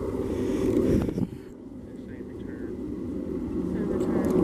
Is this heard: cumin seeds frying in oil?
no